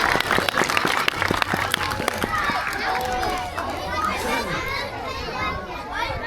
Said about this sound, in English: she's going to give herself a big round of applause